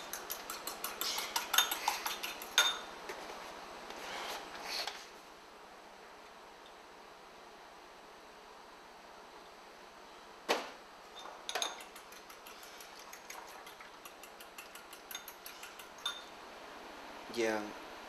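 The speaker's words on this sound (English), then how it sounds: "Gotta whisk your egg first." An egg is whisked in a bowl with quick metal-on-bowl clinks in short bursts, separated by quiet pauses, close and fairly soft in a home kitchen.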